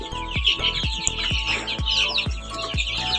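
Kuchin chicks peep and chirp in a poultry coop, a dense stream of high, overlapping calls close by, punctuated by regular short, low clucks from a hen.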